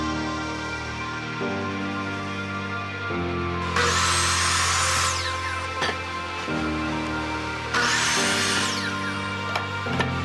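Wood for a Mickey Mouse ears wall shelf being cut, two loud bursts of power-tool cutting noise standing out over a steady machine drone, with quieter stretches of tool handling in between.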